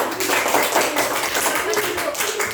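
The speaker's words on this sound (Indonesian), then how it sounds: "beri tepuk tangan kepada kawannya" A classroom of young pupils applauds a classmate, a dense, steady patter of many hands clapping close by for the whole stretch, with no pause or talk rising above it.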